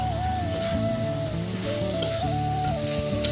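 A fish head frying with onion and cumin paste sizzles steadily and closely in the pan, a continuous crackling hiss with a few sharper pops, while a sustained wavering tone runs underneath.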